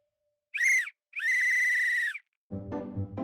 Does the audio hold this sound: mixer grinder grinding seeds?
no